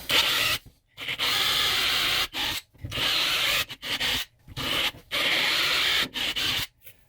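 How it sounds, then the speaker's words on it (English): A drill grinds into metal in harsh, steady bursts while drilling holes for a fuel pump setup, stopping briefly between runs before biting in again. "I'll keep drilling these guys, and then I'll try to connect them."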